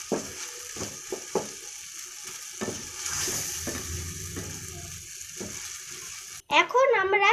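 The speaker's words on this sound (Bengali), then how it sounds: "এখন আমরা মশলাটাকে ভালো করে কষিয়ে নিচ্ছি।" Spice paste is fried and stirred in a pan, giving a steady close sizzle with scraping spatula strokes, and a voice speaks briefly near the end.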